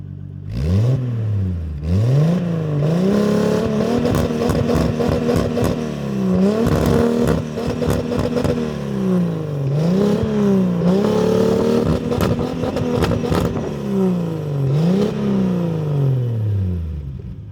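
A rear-wheel-drive Nissan Skyline GT-T engine revs repeatedly, its pitch climbing and falling in several loud surges with a clattering exhaust, close by and continuous throughout.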